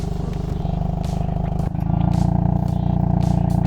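A loud, deep exhaust on a Hyundai Kona N rumbles steadily at idle, then swells into a fuller, throatier drone partway through with a slight rev as N Custom mode is engaged.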